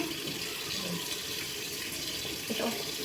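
A kitchen tap runs steadily while dates are washed by hand, a close, continuous hiss of flowing water with faint splashing and a little background talk.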